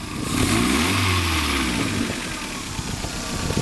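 A 1997 Toyota Celica GT convertible's 2.2-litre 16-valve inline-four revs up loudly nearby, holds briefly, then drops back toward a rough idle.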